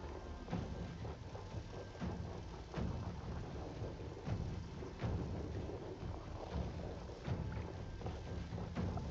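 Rumbling thunder from a Wrath of Storm spell in the Baldur's Gate video game, with repeated low booms and thuds rolling over a steady storm-like wash that stays fairly loud throughout.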